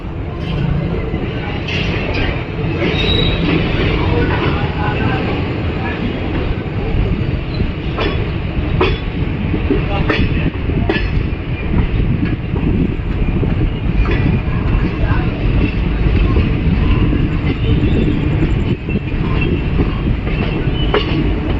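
The Dehradun Tanakpur Express rolls along at night just after departure, heard from inside as a steady, loud rumble with rhythmic wheel clatter and occasional metallic squeaks for the whole stretch.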